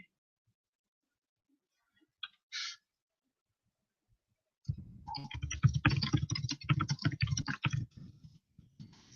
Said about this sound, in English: I'm just typing back